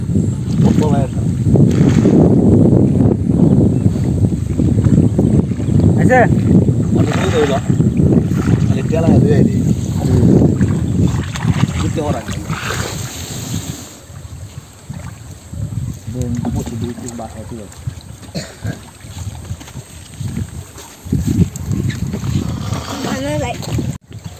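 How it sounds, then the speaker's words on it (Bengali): A boat moves through floodwater over flooded village fields, with a steady wash of water and wind noise close to the microphone. People talk over it almost the whole time. "নৌকা নিয়ে আসতেছে"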